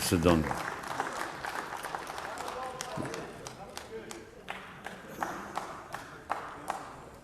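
Applause spreads through the European Parliament chamber, a scattered patter of clapping from many hands that starts strong and thins to isolated claps.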